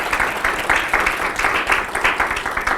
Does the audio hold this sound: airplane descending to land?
no